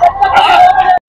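A loud, close rooster crow at a bird market in Lucknow, India, one long strained call lasting about a second before cutting off abruptly.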